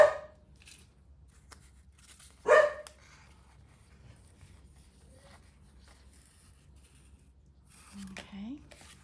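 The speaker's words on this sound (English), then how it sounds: "Excuse the dog, somebody's walked past the window." A dog gives a few sharp barks in bursts, at the start and a couple of seconds later, then quiet whines near the end, in a quiet room.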